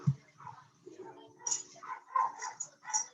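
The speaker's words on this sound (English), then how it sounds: "the dog" A dog lets out a few short barks and yips, faint and intermittent, mixed in with people talking in a room.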